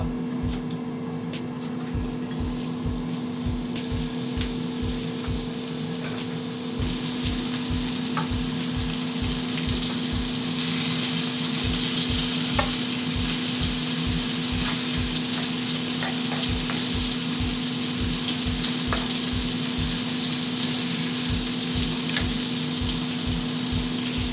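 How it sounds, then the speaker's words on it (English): Onions and vegan sausages fry in a pan with a steady, even sizzle, punctuated by regular soft scraping from stirring, close and continuous. "Gonna chuck the onions in the pan and saute that with a little bit of salt"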